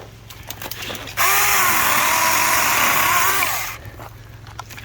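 Battery-powered chainsaw cutting through wood: a loud, steady high-pitched electric whine that starts abruptly, holds for about two seconds under load, then winds down, with quieter handling noise before and after.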